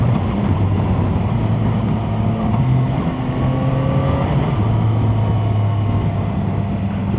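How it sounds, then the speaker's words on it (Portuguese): A three-cylinder motorcycle engine rumbles steadily close by, a throaty drone with slight rises and falls in pitch as it revs and cruises. "E esse barulho dos 3 cilindros aqui dela não perde pros 4 cilindros não, viu?"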